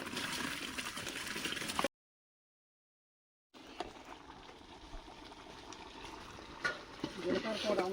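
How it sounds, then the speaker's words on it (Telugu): Rice and water are stirred together in a pot for village-style biryani cooked outdoors on a hilltop, giving faint liquid sloshing and scraping sounds. A silent gap interrupts partway through, and there are soft clinks near the end. "వాటర్ వేసి అలా కలుపుకోవాలి"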